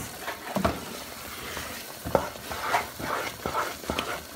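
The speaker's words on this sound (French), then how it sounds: "Je mélange jusqu'à ce que ça change de couleur." Spoon stirring a thick mixture in a cooking pot until it changes colour, ahead of adding ground cardamom; soft scraping strokes repeat irregularly at close range, fairly quiet, with no talking.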